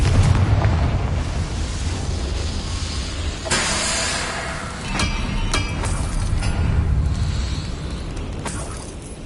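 A Confringo blasting curse goes off in Hogwarts Legacy, a loud rumbling explosion with a sharp burst midway and continuous low roar throughout, no talking.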